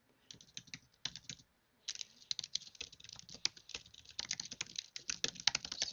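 Rapid typing on a computer keyboard while filling out an online checkout form, with bursts of clicky keystrokes, a short pause, then steady fast typing, close and clear with no talk.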